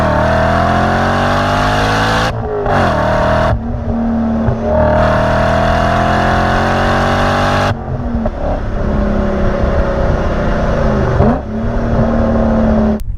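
A powerful BMW E39 M5 engine revs hard and loud, pitch rising and falling through several throttle blips, with brief gaps between pulls.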